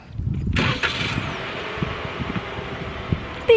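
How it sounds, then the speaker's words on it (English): A Toyota RAV4 Limited starts by remote: a quick crank gives way to a steady, close idle with fan-like whirring that holds to the end. "My car turned on."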